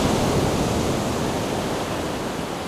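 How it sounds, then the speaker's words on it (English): Big North Atlantic winter waves surging at the Animal Flower Cave, a steady loud wash of surf noise with no distinct breaks, no talk. "Depending on the winter storms in the North Atlantic, we get big waves coming down"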